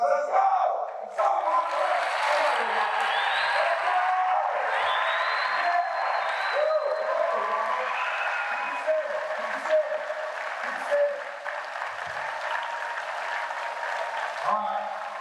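A high school gym crowd gives a varsity football team a long round of applause, with loud sustained clapping, cheering and whoops that fade slightly toward the end, while a voice shouts over the noise.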